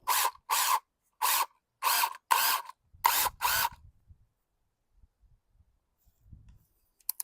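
A power drill driver fires off seven short, loud bursts in quick succession, then falls silent apart from faint handling noises and clicks.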